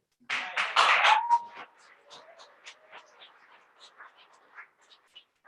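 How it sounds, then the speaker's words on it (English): Audience clapping at a town planning and zoning public hearing: a dense burst of applause that quickly thins to scattered, fading claps over a faint room murmur. "listen to the clapping"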